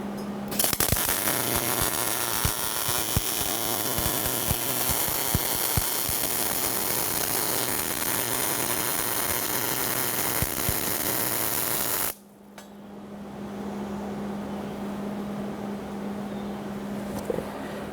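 A steady, loud crackling buzz of arc welding on the steel base of an oil-fired foundry furnace runs continuously for about twelve seconds, then stops abruptly, leaving a low electrical hum.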